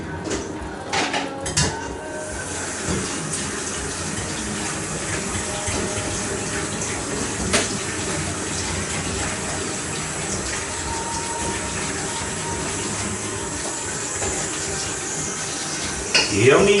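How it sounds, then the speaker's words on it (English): Mushrooms being rinsed under a running kitchen tap while a beef stew is prepared, giving a steady, close, continuous rush of water that lasts the whole stretch and swells briefly near the end. "so I'm going to wash these mushrooms."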